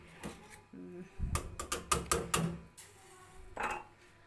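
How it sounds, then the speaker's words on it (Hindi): Tea sweetened with jaggery is stirred in a metal pot, giving a quick run of clinking, scraping strikes close by, with a voice talking before and after. "इसको मैं ज़रा हिला देती हूँ ताकि जो गुड़ नीचे बैठा होगा वो अच्छी तरह से मिक्स हो जाए"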